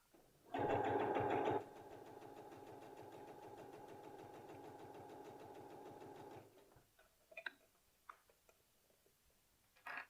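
A sewing machine runs a zigzag stitch on a t-shirt, a loud fast burst at first, then several seconds of steady mechanical whirring before it stops, followed by a few faint clicks and handling sounds.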